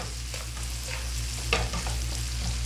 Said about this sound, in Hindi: इसे भी हल्का फ्राई करेंगे।